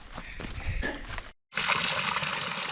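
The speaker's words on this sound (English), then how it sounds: "I think that's still got water running in it for some reason." Water runs and trickles inside an old manhole pipe along a canyon trail, a steady close rushing hiss that briefly cuts out before resuming loud and continuous.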